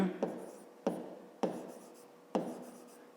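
Pen strokes on a notebook page during a fifth-grade math exercise come as four sharp taps, each followed by a short scratchy scribble, close and quiet.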